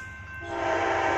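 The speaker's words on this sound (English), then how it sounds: "It's a Coast Starlight train." An Amtrak Coast Starlight passenger train rumbles nearby as a loud, steady horn blast swells in and holds, growing stronger toward the end.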